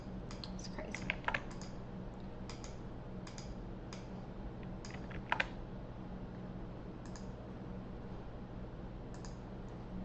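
Computer keyboard typing and mouse clicking during a live stream, scattered bursts of sharp close clicks and keystrokes over a steady low background hum, with a couple of louder clicks midway.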